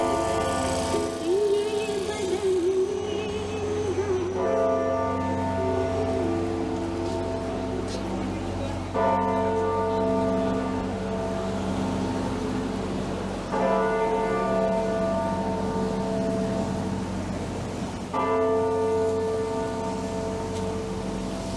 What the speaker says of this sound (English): Before I was so rudely interrupted by those bells at Old City Hall